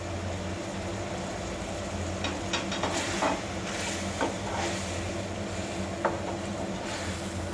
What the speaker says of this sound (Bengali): যেহেতু আপনার ওই যে পেঁয়াজ এবং রসুনগুলো ফ্রাই হবে